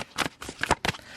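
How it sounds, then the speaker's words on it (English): A tarot card deck is shuffled close up, giving several quick papery riffles and flutters in an uneven rhythm over about a second. "I'm trying to shuffle, baby."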